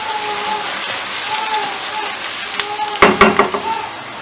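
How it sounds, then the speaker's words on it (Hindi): Chopped onions fry in hot oil in a kadhai while a Punjabi rajma dish is being cooked. A steady close sizzle runs throughout, and a short burst of clattering stir strokes comes near the end. "प्याज को मैंने इतना फ्राई कर लिया कि उसमें से उसका कच्चापन जो है वो ख़त्म हो जाए"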